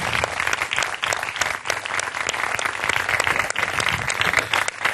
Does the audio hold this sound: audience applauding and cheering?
yes